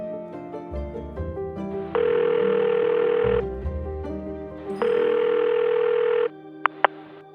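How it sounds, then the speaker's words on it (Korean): A steady telephone dial tone hums in the background, punctuated by two longer, louder tone bursts and a couple of short beeps at the end. "저는 민수의 회사로 전화를 걸었습니다."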